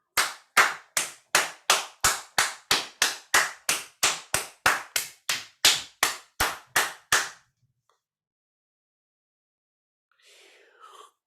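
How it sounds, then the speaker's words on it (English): About twenty sharp, evenly spaced hand claps ring out close and loud in a roughly one-per-third-second rhythm, then stop abruptly, leaving silence and a faint trailing murmur. "And then clap it out."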